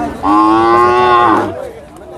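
Cattle at a village livestock market in Yasothon, Thailand, give a loud, close moo lasting about a second, standing alone against faint market background.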